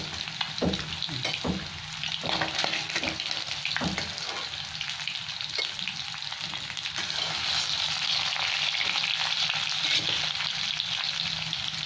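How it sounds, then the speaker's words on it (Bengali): Potato pieces seasoned with salt and turmeric fry in oil, giving a continuous close sizzle with several stirring clatters early on, then a steady hiss. "আলুগুলো একটু লাল লাল করে ভেজে নেবো।"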